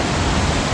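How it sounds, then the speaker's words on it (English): Small waterfall in a quaint town in Monroeville, Ohio, a loud, steady broadband rush of falling water filling the whole moment with no pauses. "I hope you enjoyed this little waterfall behind me in this quaint little town in Monroeville, Ohio."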